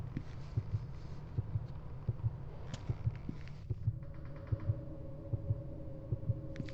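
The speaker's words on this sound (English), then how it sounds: "There's a lot of heart beating for nothing really happening." In the horror game Sucker for Love, a heartbeat effect thumps in a steady, even rhythm of double beats, loud and close over a low droning hum, with faint mechanical tones joining partway through and no talking.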